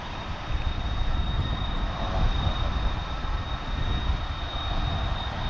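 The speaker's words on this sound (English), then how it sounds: "there goes an American Dreamliner pulling out of the American hangar" American Airlines Boeing Dreamliner taxiing out of a hangar at Dallas-Fort Worth airport, a steady broad jet engine rumble with a thin high whine on top, distant and continuous with no talk.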